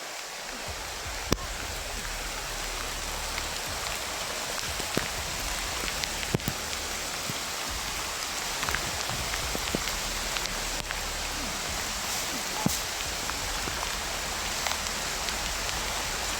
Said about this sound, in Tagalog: sobrang lakas talaga ng ulan tol.